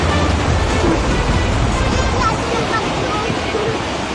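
Floodwater mixed with lahar surges through the streets of Guinobatan, Albay, making a loud, continuous broadband rush that does not let up.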